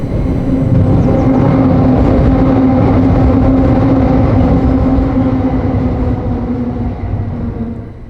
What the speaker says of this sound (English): Talking of which, there goes a train.